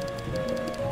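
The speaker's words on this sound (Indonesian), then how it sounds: "Aduh, hujan teman-teman." Rain falling in the Roblox camping game, a steady patter with faint periodic higher ticks, fairly even in level throughout.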